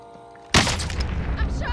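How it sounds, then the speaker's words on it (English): A single sharp, loud sniper rifle blast in Call of Duty Warzone, set in Verdansk, hits suddenly and rings out into a rumbling tail, with faint game sounds before it. "Oh my god, he's sniping."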